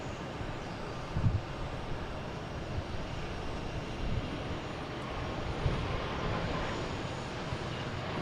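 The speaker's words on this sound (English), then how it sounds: "Let me get this quick takeoff here of Delta, heading to San Francisco on A321neo." A Delta Airbus A321neo taking off from Boston Logan bound for San Francisco, a steady broadband engine roar held at an even level throughout, moderately distant, with no voices.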